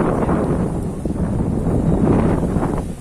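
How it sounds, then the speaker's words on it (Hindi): Wind blowing steadily through a village grove in the rainy season, a loud continuous rush of wind buffeting the microphone with faint rustling, no talk. "आज थोड़ा मौसम अच्छा है, हवा चल रहा है और बारिश का मौसम है"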